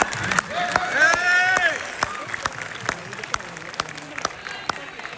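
Audience applause at a Tamil debate event in Muscat, a burst of clapping that starts under a speaking voice, then thins to scattered individual claps.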